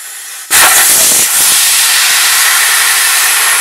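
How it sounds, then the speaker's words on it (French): A scooter tyre deflating as its valve core is pulled out, releasing a sudden loud, steady hiss of escaping air that starts abruptly and holds at near-constant strength close by, with no talking over it. "il suffit juste de détacher et l'air va partir"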